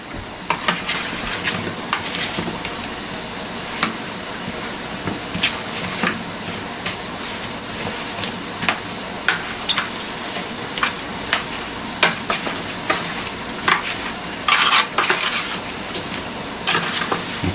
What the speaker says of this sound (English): We'll stir that up a bit just to make sure the apples get completely coated.